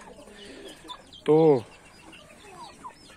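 Poultry kept in simple backyard cages give one short, loud squawking cluck midway through an otherwise quiet stretch, and a single brief word is spoken.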